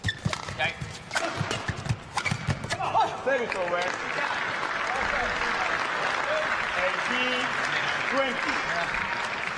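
Crowd applause at a Scottish Open 2017 badminton doubles match, a few sharp impacts and voices at first, then a steady broad wash of clapping and cheering filling the hall for the rest of the clip.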